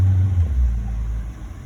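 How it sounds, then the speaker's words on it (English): Fuel-injected boat engine revving in neutral, a loud low rumble that swells early then eases back to a steadier idle, close and alone without talk. "the engine is revving up, but we're not moving"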